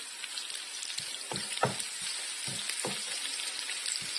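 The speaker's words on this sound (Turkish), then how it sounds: "köy biberlerimiz güzelce kızarıyorlar" Village peppers frying in a pan without butter, a hissing sizzle dotted with scattered crackles and pops, fairly close and steady, with no talk.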